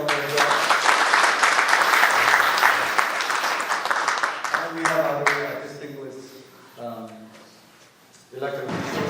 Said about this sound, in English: How about a big round of applause for Congresswoman Judy Chu?